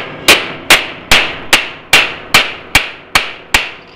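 Hammer blows drive an old chisel into the metal body of a 1969 Ford Bronco Sport, ten sharp ringing strikes in a steady, evenly spaced rhythm, close and loud with no talking.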